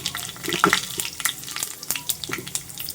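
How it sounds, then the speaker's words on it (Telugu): Tempering seeds (popu) dropped into four teaspoons of hot oil, a close crackling sizzle with scattered sharp pops and spits over a few seconds, no voices. "ఇప్పుడు పోపు గింజలు వేసాను"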